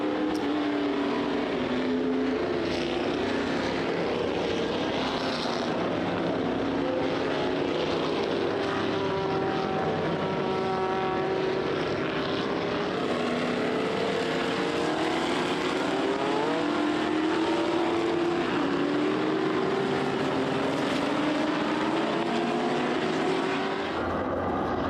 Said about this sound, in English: Here they come now with the Ferrari leading the pack.